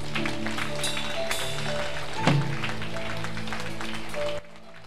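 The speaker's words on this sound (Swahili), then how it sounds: "Mpe Yesu makofi kama leo." A church congregation claps during a prayer and deliverance service in Mwanza, a dense, steady wash of applause from many hands that ends abruptly, with a tonal hum and some voices blended in.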